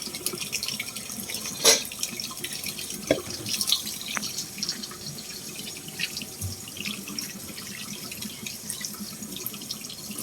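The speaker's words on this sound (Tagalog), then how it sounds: "Running water." Tap water runs steadily into a sink while raw pork stick is washed, a continuous close splashing hiss with a few sharper drips and clatters.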